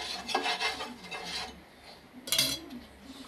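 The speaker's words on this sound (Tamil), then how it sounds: "இப்போ வந்து எண்ணெய் கொஞ்சம் விட்டு தோசை கல்ல தடவிடலாங்க" A metal spoon or spatula rasps and scrapes over a dosa tawa while oil is spread on it. The strokes come close and repeat, with a sharper scrape near the end and no talk.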